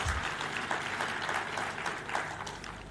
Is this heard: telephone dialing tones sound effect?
no